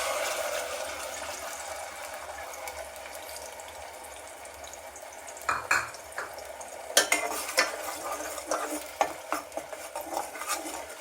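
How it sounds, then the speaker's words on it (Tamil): Ground onion-tomato paste going into oil in a pan, a low hiss rising into a run of close, clattering stirs and spoon knocks against the vessel after a quiet start. "இப்போ வந்து நம்ம வெங்காயம் தக்காளி அரைச்சி வச்சுருக்கத போ எண்ணெயில் போட்டுக்கலாம்"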